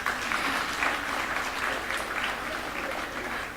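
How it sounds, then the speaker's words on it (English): A conference audience at a women in STEM and maritime event claps together, dense, sustained applause filling the hall for several seconds before tapering slightly. "You can clap."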